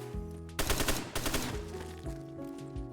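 Starting pistol shots ring out in Black Ops 3 Zombies, a quick volley of sharp cracks close together over a constant droning game soundscape, quiet overall, with no talk.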